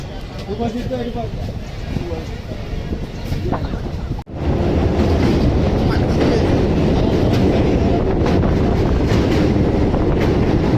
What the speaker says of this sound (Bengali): এরপর আমাদের ট্রেনটা ছেড়ে দিল